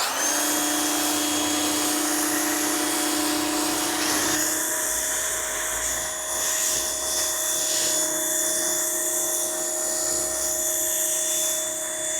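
An Active foam cannon on a pressure washer hisses and whines in a sustained spray while it foams shampoo onto a vehicle, its pitch shifting partway through and then steadying at a loud, constant level.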